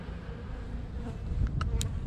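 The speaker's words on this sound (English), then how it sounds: "So we've got some bees, there's some bees." Honey bees buzz at a hive opened for an early-spring inspection, a steady low hum with a few brief nearby wingbeat passes rising above it, no voices.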